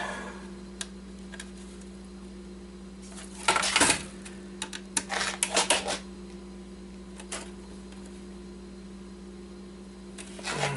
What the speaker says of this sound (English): rip the keyboard apart.